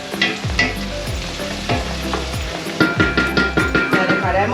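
Chicken carcass frying in a pan with softened vegetables for a creamy mushroom rice, loud crackling sizzle with repeated scraping stirs and clanks of a utensil against the pan, no talking.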